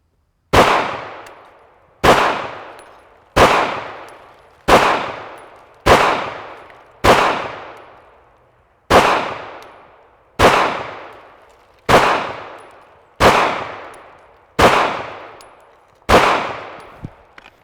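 Pistol shots on a shooting range, about a dozen loud, sharp cracks at a steady pace of roughly one every second and a half, each with a short decaying tail and no talk.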